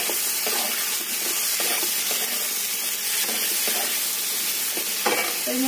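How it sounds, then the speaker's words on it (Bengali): Prawns fry in a pan with potato and pointed gourd, giving a steady, close sizzle and hiss with soft scraping stirs and small pops throughout, no voices. "এর মাঝখানে আমি চিংড়ি মাছগুলো ভেজে দিচ্ছি"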